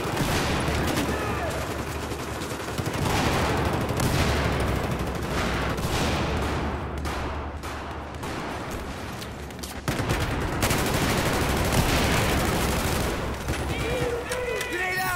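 In the video game Battlefield, dense mortar and gunfire go off as continuous rattling bursts and heavy booms, loud throughout, with voices talking under the battle noise.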